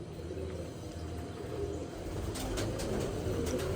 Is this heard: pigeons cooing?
yes